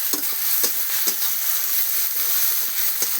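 Chopped garlic sizzles loudly in hot oil in a pan over a clay stove, with a constant frying hiss broken by regular scraping strokes of a spoon stirring it.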